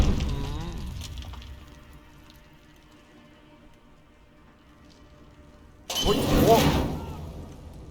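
An explosion in Call of Duty: Modern Warfare 2019 erupts as a loud, broadband crash after a stretch of quiet rumble, then decays over a couple of seconds, with a voice talking before it.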